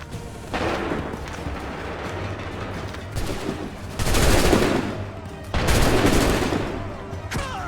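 Volleys of gunfire are fired on shouted command, with heavy bursts of shots crashing out in two loud clusters over a continuous noisy background. Voices are heard around the shots.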